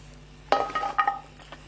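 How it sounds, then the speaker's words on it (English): Chopped vegetables are tipped into a wok in one quick burst of clattering and light clinks, close and short, followed by a few smaller taps as pieces settle. "I've chopped up all my veggies. I'm just going to grab a wok and just throw all those in there"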